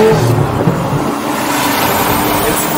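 A Lamborghini with a dual-clutch transmission accelerating hard, its engine a loud, continuous roar heard from inside the cabin across the whole short stretch, with no talking.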